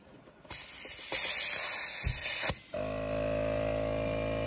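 An ARB air compressor runs during a beach stop in Greece, topping up a tyre: a loud rushing hiss of air bursts in, grows stronger, cuts off abruptly, then gives way to a steady droning hum.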